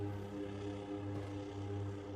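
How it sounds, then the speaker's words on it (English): A floatplane lifts off the water in downtown Vancouver, its propeller engine droning steadily at a moderate distance without any talk. "It's off the water. Now it's in the air. There goes the plane."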